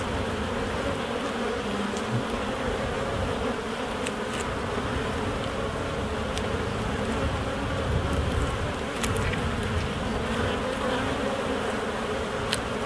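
Honey bees buzz continuously at an opened beehive frame during a UK hive inspection, a dense, close, steady drone with a few louder individual bees passing nearby and no talking.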